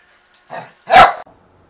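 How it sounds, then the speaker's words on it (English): Dogs bark close by: a short yip, then one loud, sharp bark, with quiet between them. "I'm being attacked by dogs."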